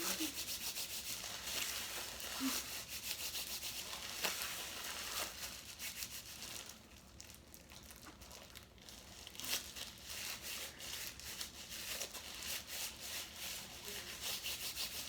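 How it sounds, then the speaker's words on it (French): Quiet, continuous rubbing and soft scratchy friction as hands work an activated-charcoal face mask care product into the skin, with brief pauses and no voices. "Je frotte un peu, je mélange."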